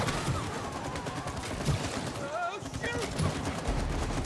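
Rapid glue-gun fire in the video game It Takes Two: a dense, steady stream of sharp shots running through the whole stretch, loud and busy, with game effects and voices mixed underneath.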